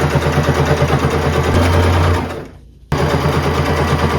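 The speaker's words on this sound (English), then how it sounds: "then do a straight stitch down" A sewing machine runs a steady straight stitch through thrifted clothing fabric, loud and close with a fast even whir, then stops abruptly for a moment before starting again.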